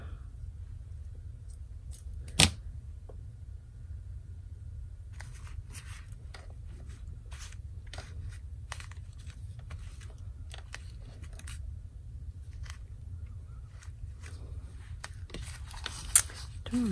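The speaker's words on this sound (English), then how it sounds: "I'm gonna cut that" Scissors snip decorative craft trim, a few sharp close cuts and clicks standing out over a quiet, steady background hiss, with light paper rustling in between.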